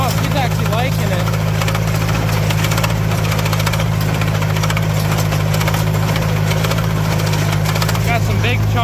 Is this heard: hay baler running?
yes